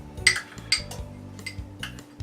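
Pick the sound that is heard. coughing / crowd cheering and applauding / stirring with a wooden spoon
stirring with a wooden spoon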